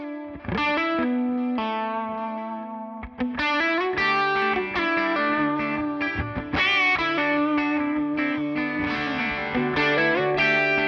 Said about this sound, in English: This tone is a combination of a Sewer SL67 Plexi amp combined with a matchless Chieftain